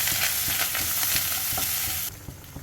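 Urad dal, shallots, garlic and coconut roast in a pan with a steady sizzle and occasional stirring scrapes, loud and close, and the sizzle drops off near the end.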